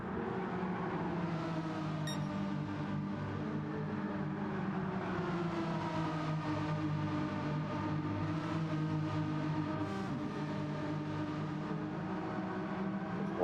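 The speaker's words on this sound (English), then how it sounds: "These cars sound good as well." Race car engines in Gran Turismo 7 drone steadily at a distance, a low layered hum whose pitch drifts gently as cars circulate, faint and unbroken with no talk.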